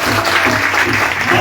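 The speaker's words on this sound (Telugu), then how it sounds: "చప్పట్లు కొట్టండి గట్టిగా." Congregation clapping hard at a church sermon, a dense steady burst of many hands that fills the short moment at close range, with a low hum of voices underneath.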